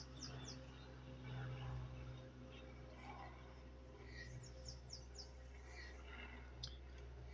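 Small birds chirping outside in short, faint, scattered high tweets over a steady low hum, distant and quiet.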